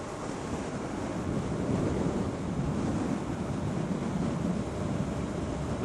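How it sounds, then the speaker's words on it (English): Wind roaring across the microphone during a motorcycle ride past fields and sheep, a continuous loud buffeting rumble with no clear breaks. "it's a bit windy"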